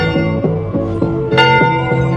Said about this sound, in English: Villagers heard the bell and ran home like crazy.